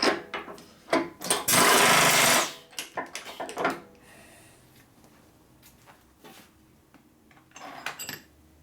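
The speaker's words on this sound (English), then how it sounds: "now we're ready to do some boring. So I use my little boring head here." Boring head cutting a part from a 1961 Harley-Davidson Sportster XLCH engine during a rebuild, a loud sustained broadband machining burst of about a second, then scattered softer clicks and taps of tools and parts.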